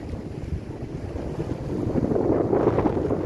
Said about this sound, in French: Il y a un sacré vent par ici